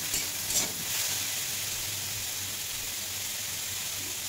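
Sliced ridge gourd fries in a pan with salt, giving a steady, soft sizzle with a brief louder crackle near the start, close by and fairly quiet throughout.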